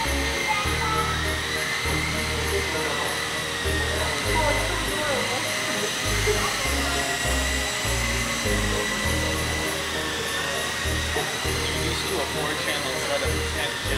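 A Horizon Blade Scout RC helicopter flies with a steady, continuous motor and rotor whine held throughout, alongside rough low rumbling noise, fairly close.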